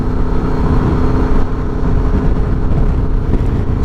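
A motorcycle rides along a road with a loud, continuous engine rumble and rushing wind noise, close and steady throughout.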